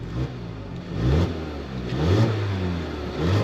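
A 2021 Mazda CX-30's 2.5-liter four-cylinder engine revs up several times in quick bursts, its pitch rising and falling between each throttle blip, heard up close.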